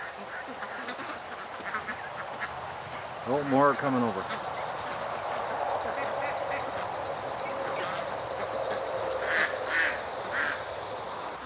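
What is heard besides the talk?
ducks quacking near the water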